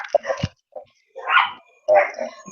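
Dogs barking indoors in a few short bursts, fairly close and loud, separated by brief pauses, with no one talking over them.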